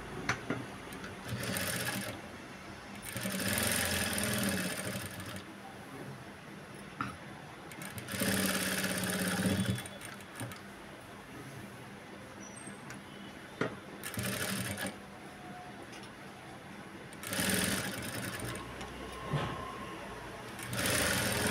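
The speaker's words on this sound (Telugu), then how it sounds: "ఇప్పుడు దీనిపైన ఒక స్టిచ్ వేసుకుందాం." A sewing machine stitches the neckline of a Punjabi dress top in several separate whirring bursts with quiet pauses between, fairly soft and close.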